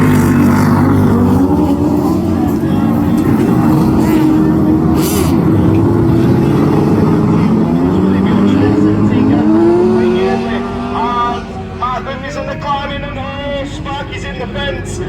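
Autograss race cars roar off the start line together, engines loud and revving hard in a dense, rising drone that shifts pitch as they accelerate away, while a race commentator talks over the noise throughout.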